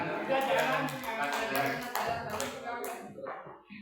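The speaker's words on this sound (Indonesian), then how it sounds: "Kasih aplaus untuk Pak Kanang." A group applauds in a room, with a burst of quick claps that fades out over a few seconds, mixed with talking.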